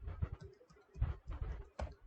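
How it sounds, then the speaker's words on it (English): Keystrokes on a computer keyboard during a password prompt in a software installation, a few irregular soft clicks in short bursts, close and quiet with no talking. "I am typing the same thing."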